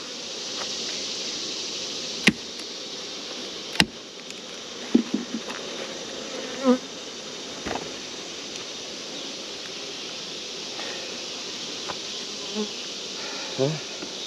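Honey bees hum in a continuous, close buzz around an opened hive. Capped brood and honey stores are inside, and a few sharp clicks and knocks of frames being handled break through the buzz.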